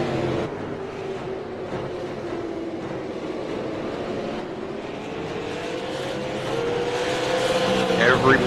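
Sixteen race cars run single file around the track, engines droning and shifting pitch as they pass, swelling louder near the end, with an announcer talking over them.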